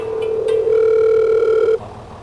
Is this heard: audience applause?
no